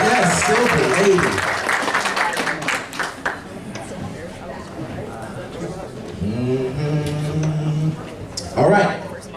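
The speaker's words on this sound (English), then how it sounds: "Guys, give her a round of applause" Audience at a cosplay contest on an Atlanta convention stage, with clapping and crowd chatter mixed with an announcer's amplified voice. A loud burst of applause and cheering comes near the end.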